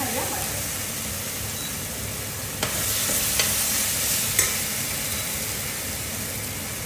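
Ginger garlic paste frying in a pan for mutton yakhni pulao gives a steady, close sizzle with a few sharp stirring clicks against the pan, and no one speaks.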